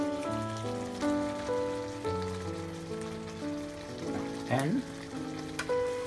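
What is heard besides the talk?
gravy simmering and reducing on a hot plate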